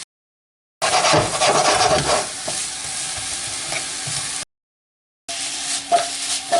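Sugar, butter and apples sizzle in a pan while being stirred to caramelize, a close scraping fry that runs in two stretches separated by a brief silence.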